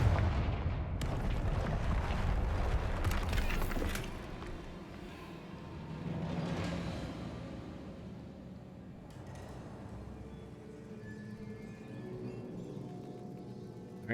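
Confringo blasting spells exploding in Hogwarts Legacy, a loud rumbling blast at the start that slowly decays, followed by several quieter booms and crackling debris against a faint game background.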